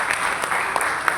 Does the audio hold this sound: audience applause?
yes